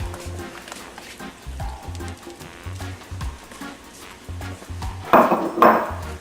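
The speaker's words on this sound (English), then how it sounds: "We're going to go ahead and we're going to add our ackee." Ackee tipped into a pan of scallions, a short clatter and scrape of food and utensil against metal near the end, following light pan knocks and rhythmic low thumps.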